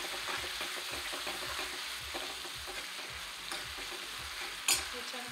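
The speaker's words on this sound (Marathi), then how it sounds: "हे छान तेलावर असं सगळं फ्राय करून घ्यायचं" Besan sizzling steadily in hot oil for Maharashtrian pithla, with a constant bright frying hiss, soft rhythmic stirring scrapes throughout, and a sharp clink near the end. No voices.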